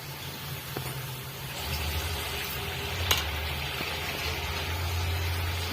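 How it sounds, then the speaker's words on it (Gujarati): Ghughra, sweet Diwali dumplings, deep-frying in hot oil, giving a steady close bubbling sizzle with a low rumble and a single sharp utensil tap midway, no voices. "થોડી વાર માટે આપણે આને તળાવા દઈશું."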